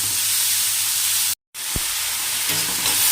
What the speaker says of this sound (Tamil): இதை நல்லா வதக்கி விடுங்க கலர் நல்லா சேஞ்ச் ஆகிடணும்